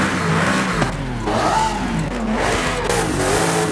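Supercar engine in a racing video game, the fastest car in the world before a Bugatti, revving steadily and loudly, with a continuous throaty drone and rising and falling pitch sweeps, no voices.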